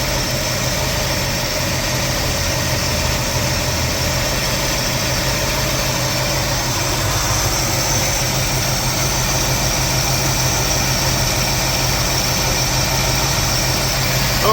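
A car engine, running despite a fuel leak, idles steadily and loudly throughout, a constant low rumble with faint vibration and no speech.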